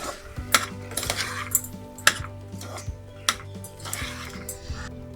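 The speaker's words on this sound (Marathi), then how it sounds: "ओले वाल घालूया, चांगलं परतून घेऊया।" Fresh field beans sautéed and stirred in a pan, heard as repeated sharp metallic clinks of a spoon against the pan over a faint sizzle, close and without talk.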